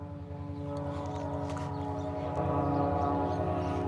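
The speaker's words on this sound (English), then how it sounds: "Amtrak southbound for Chicago." An Amtrak southbound passenger train with its locomotives rolls past near a Mississippi River bridge, a steady loud rumble with sustained droning horn-like tones held throughout.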